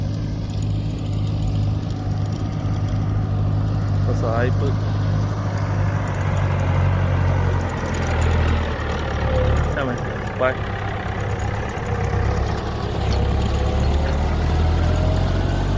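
Tractor-like farm vehicle engine idling steadily on a dairy farm, a continuous low rumble held throughout while someone talks over it.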